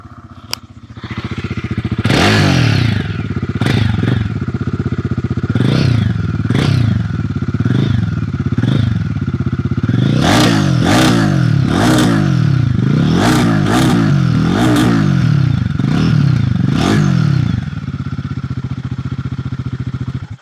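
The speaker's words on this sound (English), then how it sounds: "let me just fire up the engine as well to let you know what the exhaust sounds like" A Royal Enfield Guerrilla 450 motorcycle starts up and its exhaust is revved repeatedly, a dozen or so sharp throttle blips rising and falling over a steady idle, loud and close.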